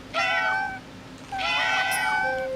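A cat gives two clear, drawn-out meows in close succession, loud and near, with a faint tone in the background.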